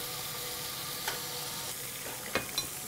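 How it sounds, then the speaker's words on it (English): Quail searing in hot fat in a pan, a quiet steady sizzle close by with a few soft scrapes and taps of a utensil, no talking. "We're gonna give the quail a nice sear on both sides."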